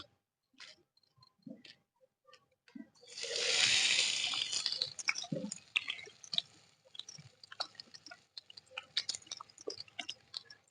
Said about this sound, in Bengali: আমার তেল গরম হয়ে গেছে, এবার আমি দিয়ে দেবো পেঁয়াজ কুচি।